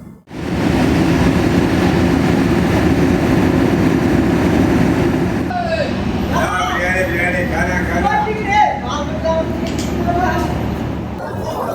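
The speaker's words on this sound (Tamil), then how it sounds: "நம்ம ட்ரெயின் இன்னைக்கு ஆல்ரெடி பிளாட்ஃபார்ம் நம்பர் 8க்குள்ள வந்துருச்சுங்க." Chennai–Shirdi superfast express train standing at platform 8 of a busy station, a loud steady rumble and hum of the train and platform noise throughout, with people talking nearby over it.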